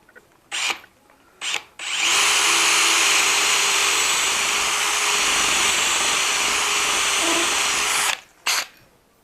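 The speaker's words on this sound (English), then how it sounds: "basically drill a hole through here using a special stepped drill bit" A power drill with a stepped drill bit whirs steadily for about six seconds after a couple of short trigger bursts, then stops, followed by two more quick spins.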